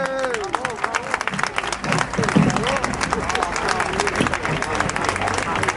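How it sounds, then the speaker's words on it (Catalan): An audience applauds at a Christmas lights switch-on in Montgat, with brisk, dense clapping throughout and a murmur of voices and cheering mixed in. "Un aplaudiment."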